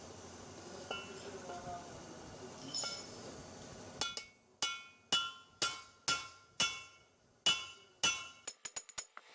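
Valve seats are tapped into place in the cylinder head of a Suzuki DF 100-140A 2.0 outboard motor. A run of about a dozen sharp, ringing metallic strikes comes at a steady pace, then a quicker cluster at the end.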